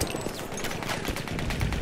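Rapid gunfire in the World War I shooter Battlefield 1, dense bursts of shots cracking one after another through the whole stretch, loud and continuous with battlefield noise behind.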